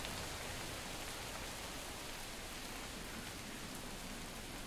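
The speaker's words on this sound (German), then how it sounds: "Oh, es regnet." Rain falls in the Guild Wars 2 video game, a steady, even wash of rain noise with no talking over it.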